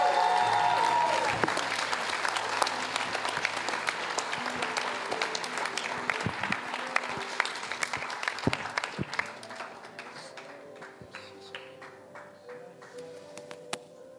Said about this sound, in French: Acclamons encore lui